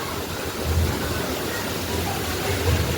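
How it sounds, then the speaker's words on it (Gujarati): Heavy monsoon rain pours steadily as a dense, continuous broadband wash with a low rumbling undertone, loud and unbroken throughout during a flood at a home. "હજી વરસાદ રહેવાનું નામ નથી લેતો"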